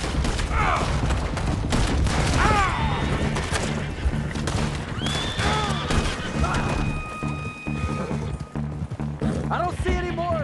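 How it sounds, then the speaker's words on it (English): Explosions and gunfire erupt in Red Dead Redemption 2, a loud, continuous clatter of shots with heavy booms and crashes, a horse whinnying, and voices talking over the chaos. "That explosion came just in time."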